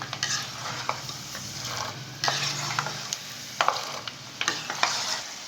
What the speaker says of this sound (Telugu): ఇలా సిమ్లో పెట్టే వేయించండి